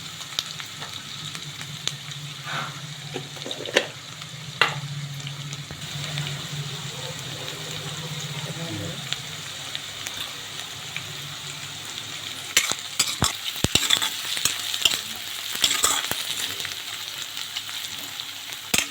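Onion frying in oil in a pan, a continuous soft sizzle with occasional stirring clicks and scrapes, busier and louder in the later part, with no one talking.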